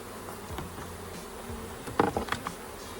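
Honeybees from a package of about 10,000 buzz as they are installed into a hive, a faint steady drone with a few louder buzzing passes near the end.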